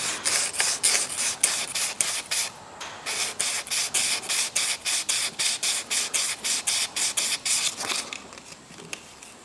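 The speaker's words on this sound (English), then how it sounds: "I have a little bit of 1200 sandpaper here" Fine 1200-grit sandpaper rubbed back and forth over a rusty John Deere injection pump part, a steady run of quick, close, raspy strokes in an even rhythm with brief pauses and no talking.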